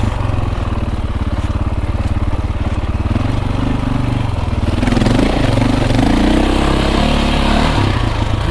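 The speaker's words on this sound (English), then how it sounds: "Bike ain't liking this. Fans going like crazy." KTM 450exc dirt bike engine labouring on a single-track trail with its cooling fans running, a loud, close, continuous rough drone that rises and wavers as the throttle shifts.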